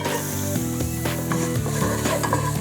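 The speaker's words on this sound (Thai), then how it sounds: "น้ำมันร้อนแล้ว ลงผัดเลย" Food stir-frying in hot oil in a pan while spaghetti and meatballs are being cooked, with a close sizzle and the scrape of a utensil. Steady music sits under the frying.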